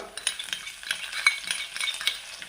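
Chopped ginger and slit green chilli tossed into a hot pan for a bitter gourd masala, giving a soft crackling sizzle with scattered stirring scrapes, close and fairly quiet, no voices.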